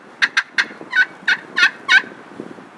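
A wild turkey gobbles in a quick run of rattling, throaty bursts, fairly close and clear against a quiet outdoor background, with no one talking.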